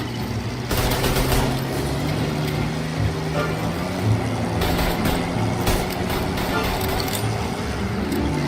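A car engine in Mafia: Definitive Edition roars steadily while chasing a booze truck, under scattered sharp cracks like gunfire, a continuous rumbling drive with bursts of noise on top.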